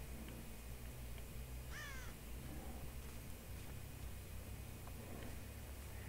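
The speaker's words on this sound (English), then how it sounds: "Damn birds." Crows caw outdoors: one faint, harsh call rises briefly above a constant hiss of background noise.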